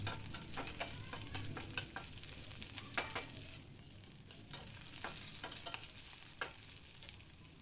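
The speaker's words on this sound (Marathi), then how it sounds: "लसूण कढीपत्ता चांगला परतून घ्यायचा." Garlic and curry leaves fry in hot oil with a continuous close sizzle, broken by repeated scraping stirs of a spoon against the pan at an uneven rhythm, with no voices.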